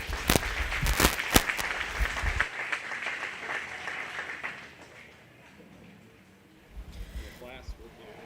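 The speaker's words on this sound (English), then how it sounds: "let's go ahead and give him a nice round of applause" Crowd applause at a 4-H/FFA goat show, a burst of clapping with sharp individual claps for about two seconds that cuts off abruptly, followed by quieter room noise and some talk.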